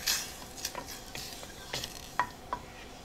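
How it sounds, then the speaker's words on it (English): A spoon scrapes stuck green curry off the bottom of a saucepan, giving several close, distinct scraping strokes over a faint sizzle, with no talking. "I'm scraping the bottom of this saucepan to get all the curry that's stuck there"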